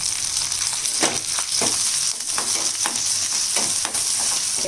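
Urad dal, green chili, ginger and curry leaves crackle and sizzle in hot oil for a South Indian tempering, a bright continuous frying hiss punctuated by popping bursts and stirring scrapes, close and without speech.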